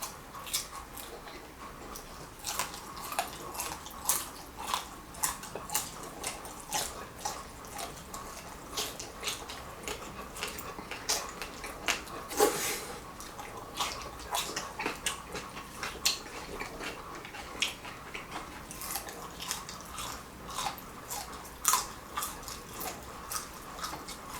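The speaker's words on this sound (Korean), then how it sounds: "너보다 더 맛있게 먹으려고 내가 뼈 씹었잖아" A person chews fried chicken bones close to the microphone for ASMR, making a long run of sharp, irregular crunches and clicks, some louder than others, over a quiet wet background with no talking.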